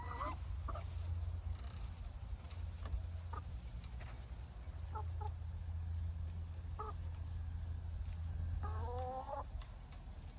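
Quiet, scattered clucks from a hen settling into its nest box to lay an egg, with brief bursts of calling over a steady low hum.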